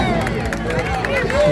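A crowd at a race finish line claps and cheers in a busy, continuous wash of noise, with voices and general hubbub layered throughout.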